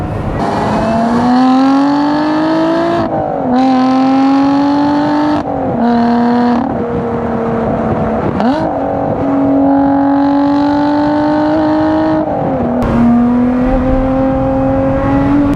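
A Lotus Exige Sport 390 Final Edition engine revs hard and close, each pull rising in pitch before abrupt gear-change breaks, repeated several times in a sustained mechanical howl.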